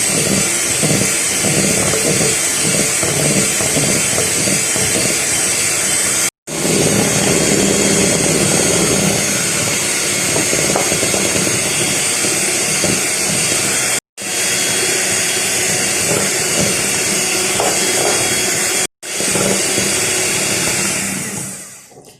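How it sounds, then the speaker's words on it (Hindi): Hand mixer whirring steadily while eggs are beaten into egg biscuit batter one at a time, a loud continuous motor drone broken by three brief pauses. "एक एक करके अंडा डालते जाएंगे और इसको बीट करते जाएंगे।"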